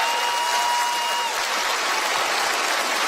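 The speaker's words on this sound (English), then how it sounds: "Give them a big round of applause." A theater audience at a magic show gives sustained, dense applause for guests coming on stage, a steady wash of clapping from a large crowd with a brief tone fading early on.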